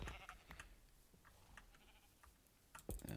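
Sheep bleat in a survival video game, a few faint, short calls scattered among soft clicks and background noise.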